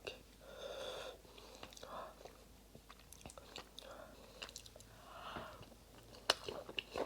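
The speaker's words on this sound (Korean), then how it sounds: "이건 비벼 먹으려고 남겨놓은 밥인데 한 숟갈만 먹어볼게요." A spoonful of white rice mixed with very spicy mara rose jjimdak sauce is eaten up close: soft, quiet chewing and wet mouth sounds repeat over several seconds, with faint breathy noises between bites.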